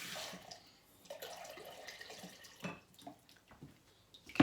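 Water runs and drips from a kitchen tap while being readied for Maori bread dough; a soft, uneven trickle with intermittent splashes and drips, close and quiet, without talking.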